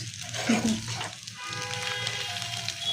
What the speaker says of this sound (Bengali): নুডলস আর মাংস একসাথে আমি ভেজে নিতেছি